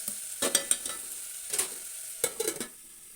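Masala fries in a pan for aloo chicken gravy while it is stirred, giving a low sizzle with a few bursts of scraping and clattering from the spoon, close and quiet, no speech.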